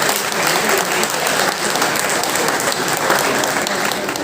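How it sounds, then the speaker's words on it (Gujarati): A hall full of people at a Samast Brahmin Samaj community honours event in Navi Mumbai gives the committee a thunderous round of applause, continuous and dense throughout. "એક જોરદાર તાળીઓ બધી કમિટી માટે."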